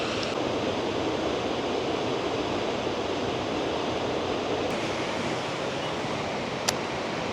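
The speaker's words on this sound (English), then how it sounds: "think we've almost made it to the waterfall" Foster Falls pours steadily, a loud, continuous broadband rush of falling water close at hand that holds unchanged for the whole stretch, with no talking.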